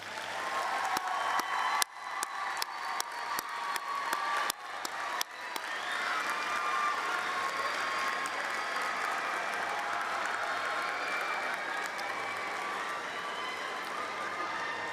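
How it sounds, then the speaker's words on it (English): A large commencement audience at a community college graduation applauds, scattered distinct claps first and then swelling into steady, sustained applause heard from a distance in a large hall. "Graduates, also join me in a round of applause for everyone who has helped you get to this point."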